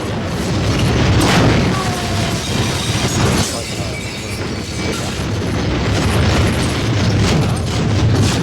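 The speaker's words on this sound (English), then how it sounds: "Firecrackers are going off." Firecrackers bursting in the horror film Demon Wind, a loud, dense barrage of cracks and booms that continues without pause under a roaring, noisy background.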